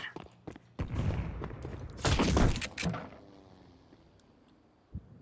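A grenade goes off in the Counter-Strike 2 video game with a heavy, dense burst and scattered gunshot cracks around it, then a quieter tail and one last sharp shot near the end. No one speaks.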